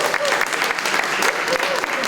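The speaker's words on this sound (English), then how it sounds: "More claps, please." An indoor community event audience breaks into brisk, steady applause for an honored guest, with murmuring voices faintly mixed under the clapping.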